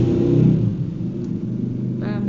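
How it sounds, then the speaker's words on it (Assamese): A loud motorbike passes nearby, its engine roar swelling in the first half second and then fading to a lower rumble, heard indoors with no talk over it. "বাইক এখন গ'ল, বৰ শব্দ হৈছে।"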